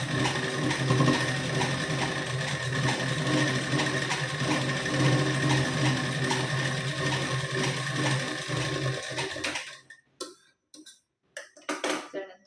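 Sewing machine stitching a blouse, a loud continuous whirring run that stops abruptly near the end, followed by a few short bursts of stitching.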